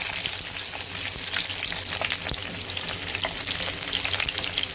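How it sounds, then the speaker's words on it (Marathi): Whole spices and onion frying in hot oil for a vegetable paneer pulao, a dense, steady crackling sizzle with scattered pops running throughout, close and fairly loud, with no voices. "खडे मसाले चांगले गरम झाले तेलात, मग आपण कांदा घालायचा।"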